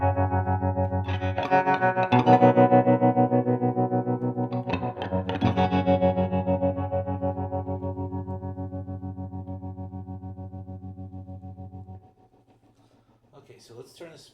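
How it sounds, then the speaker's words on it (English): Electric guitar through a Bias Wiggle tremolo effect set to half speed, sustained distorted chords pulsing in a steady fast throb that decays to near silence. "I'm going to turn the speed up about halfway so you can hear it a little faster."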